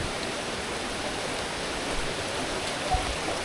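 Steady, close rushing of water flowing under rocks in a stream, a continuous hiss with a faint knock or two and no voices.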